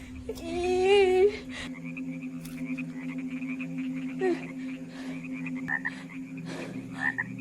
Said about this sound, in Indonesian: terdapat banyak kodok di dapurnya dan nyemplung di sebuah panci